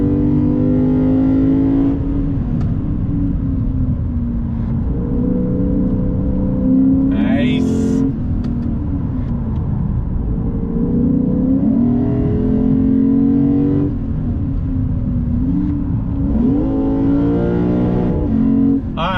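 A 2022 Lexus IS 500 F Sport Performance engine revs and surges while the automatic gearbox drops through gears, pitch falling and climbing again; steady loud drone with brief mechanical clicks.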